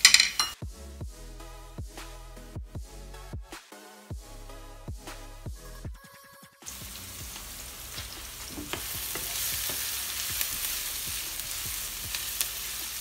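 An onion hits hot oil, first with a run of rhythmic clatter and knocks, then a loud, continuous close-up sizzle that holds to the end.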